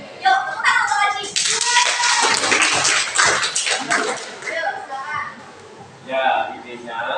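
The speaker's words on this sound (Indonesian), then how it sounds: "Yuk, tepuk tangan untuk Aji." Classroom clapping from students, a dense burst of many hands that swells and sustains for several seconds, then fades into a lone student's voice beginning to speak.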